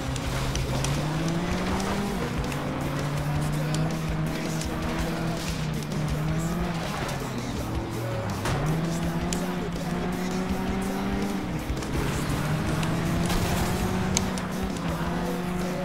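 Engine drone and tire noise from cars racing in the Flatout 2 video game run continuously. The engine pitch climbs and drops with gear changes, and occasional skids cut through.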